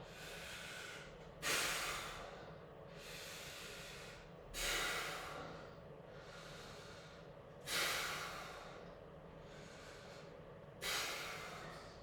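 Heavy, rhythmic breaths during a grip chest press in a hard workout, a sharp forceful exhale roughly every three seconds over a steady breathy hiss, close and without talk.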